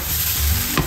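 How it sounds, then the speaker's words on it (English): Tofu fries in a pan while ramen is being prepared, giving a brief, close, continuous sizzle with a small bump near the end. "We have the tofu frying for the vegans."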